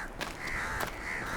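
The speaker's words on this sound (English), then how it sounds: "Alright, we got crows." Crows cawing in the horror video game Stygian: Outer Gods, a few harsh caws rising over a steady ambient drone, moderately close and alone with no talk.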